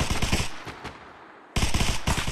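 Close, loud automatic gunfire in the Arma Reforger video game: a rapid burst, a short lull, then another fast burst of shots.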